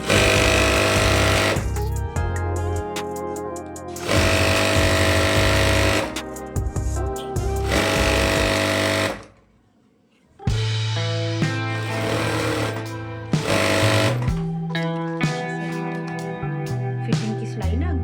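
An electric sewing machine stitching a capri with elastic runs in loud, rapid mechanical bursts, stopping and restarting several times with a brief near-silent gap partway through.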